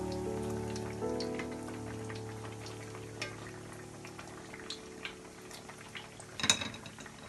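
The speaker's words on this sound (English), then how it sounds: "While the cutlets is frying in the oil on the side" Parsi mutton cutlets fry in oil, a steady crackling sizzle full of small pops, with a hum fading early and a brief louder clatter near the end.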